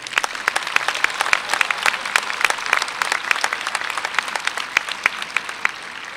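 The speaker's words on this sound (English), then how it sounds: "join me in giving them a round of applause as well" Applause from the audience at a university honors convocation, a steady wash of many hands clapping with distinct sharp claps standing out, continuous and fairly close for the whole stretch.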